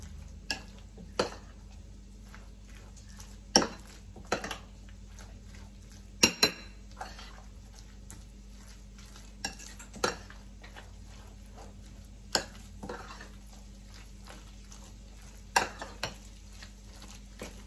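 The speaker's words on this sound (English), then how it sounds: "And now I'm gonna mix everything all together." Vegetables for a crustless tomato pie being mixed in a bowl, with intermittent sharp clinks and knocks of a utensil against the dish over a soft, steady background, no voices.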